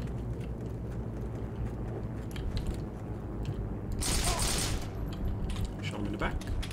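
Gunfire in a Heroes and Generals battle, shots fired at an enemy near a contested bridge, a burst of rapid cracks rising over steady background game noise with mechanical clatter.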